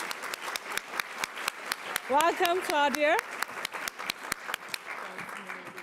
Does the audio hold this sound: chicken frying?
no